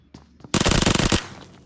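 A loud, rapid burst of automatic gunfire in the mobile game BGMI rattles for under a second, preceded by a few faint clicks and followed by a fading tail.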